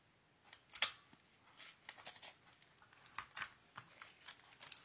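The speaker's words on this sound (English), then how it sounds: "I'm going to use the bigger hole punch. And I'm just going to cut out holes where those were." Paper being punched with a Crop-A-Dile hole punch for a scrapbooking album, a series of sharp crunching clicks and snips in an irregular rhythm, close up with no talking.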